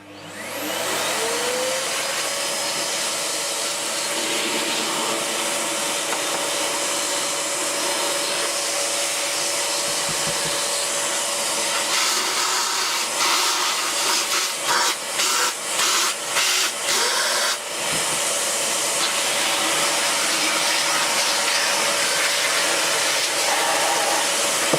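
A vacuum cleaner runs continuously with a loud, steady roaring whoosh and high whine, close by, the pitch briefly fluttering and shifting partway through as the airflow changes.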